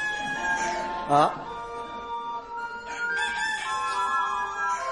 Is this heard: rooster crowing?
yes